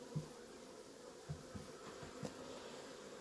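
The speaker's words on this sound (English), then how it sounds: "I will let these bees fly around for a while." A faint, steady low hum of bees buzzing, with a few soft thumps and small taps scattered through, no voices.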